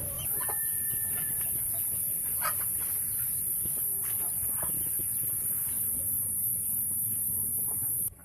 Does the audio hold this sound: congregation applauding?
no